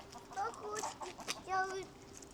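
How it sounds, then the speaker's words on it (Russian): Hens and roosters cluck in a village yard in rural Poland, a few close, short bursts of clucking with a brief higher call. "Курочки и петушки, посмотри, Ади."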